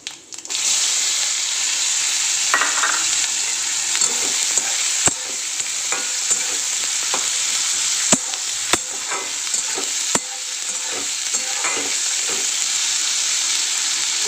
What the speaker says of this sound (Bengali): হিংটা দেবেন, খুব ভালো লাগে। আর সাদা জিরে, আর এবার পেঁয়াজটা দিয়ে দেবো।